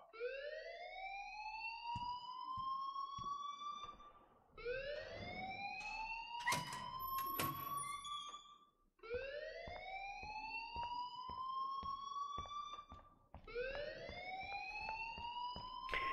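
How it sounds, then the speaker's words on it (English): In the video game Life is Strange, a fire alarm wails in four long rising sweeps, each lasting about four seconds with brief gaps, steady and fairly loud, with a few clattering sounds mixed in. "please turn off that alarm"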